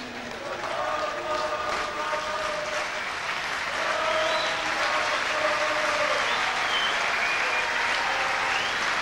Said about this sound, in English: the Samoan supporters applaud their team.